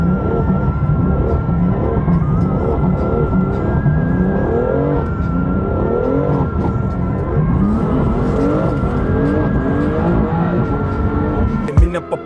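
A Toyota Supra drifts on a city street in Sochi, its engine roaring steadily while the tires squeal and skid without letup, loud and close, with a sharp burst near the end.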